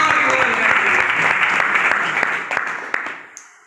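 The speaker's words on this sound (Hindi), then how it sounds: "इनके लिए एक बार जोरदार ताली" An audience claps for teachers at a coaching centre event, a dense burst of applause that holds steady, then thins out into scattered claps as it dies away.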